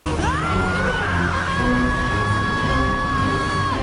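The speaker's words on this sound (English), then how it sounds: "Just listen to this scream though" A high, drawn-out scream from Pal, the cartoon dog in the animated series Arthur, holds steady for about three seconds and sits over a busy, crowded backdrop of crashing noise.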